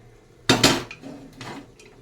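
Metal clatter of a ladle in a pot of boiled dal as cooked potatoes are lifted out one at a time: two sharp close clinks, then softer scrapes and a faint later tap.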